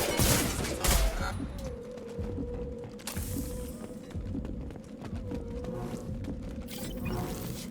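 Gunfire in the video game Mass Effect 2, a busy stretch of rapid shots and combat noise over a steady droning background, with bursts louder near the start and again later.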